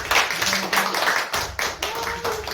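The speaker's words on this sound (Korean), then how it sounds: "그럼 다시 한번 큰 박수 한번 좀." Clapping from an audience at a university lecture in a hall, delivered in a few loud bursts with brief gaps between them, close and lively, with faint voices audible underneath.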